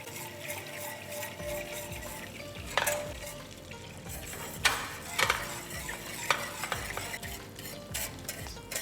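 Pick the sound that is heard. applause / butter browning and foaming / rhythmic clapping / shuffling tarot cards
butter browning and foaming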